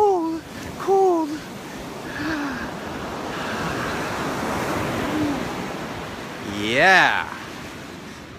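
Pacific Ocean surf breaks on the Northern California coast, a broad continuous wash of waves swelling and fading, buffeted by wind on the microphone, with a brief voice speaking.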